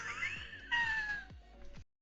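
Several cats meowing in a blocky Minecraft-style game, a few short, close, clear mews in quick succession, with no talk over them.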